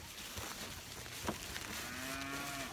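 Cattle moo in a pasture, one drawn-out low call rising near the end over soft outdoor ambience, fairly close but not loud.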